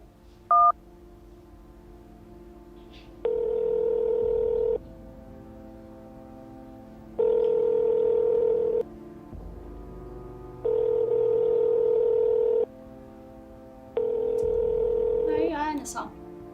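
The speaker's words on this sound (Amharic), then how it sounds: "እስኪ ስልክ ምጭ" An outgoing telephone call, a short burst of dial tones followed by four evenly spaced ringback tones with pauses between them, steady and clear, ending with a faint clatter.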